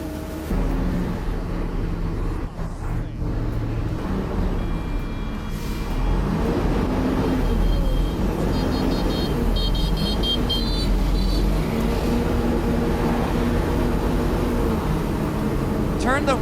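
Large crane truck backing out of a work site, a loud low engine rumble that rises and falls throughout with a faint high beep in the middle and voices talking over it.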